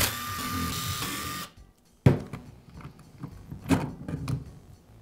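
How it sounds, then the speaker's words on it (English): Work on a DeWALT drill gearbox, taking out the screws that hold it to the motor housing, with a steady mechanical whir at first, then a short pause and several scattered clicks and small clatters of parts and tools. "Now remove the screws that secure the gearbox to the motor housing."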